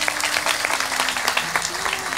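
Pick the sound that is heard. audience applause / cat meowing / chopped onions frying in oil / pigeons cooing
audience applause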